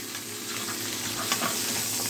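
A T-bone steak pan-frying with garlic and shallot sizzles steadily up close, with a brief clink of utensils partway through and no talking.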